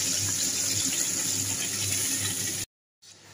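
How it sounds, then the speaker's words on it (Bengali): Water added to frying beetroot paste in a hot pan, a close, steady hiss and pour lasting a few seconds before it cuts off abruptly into brief silence, then faint sizzling returns. "এর মধ্যে একটু জল দিয়েছি সেদ্ধ হওয়ার জন্য"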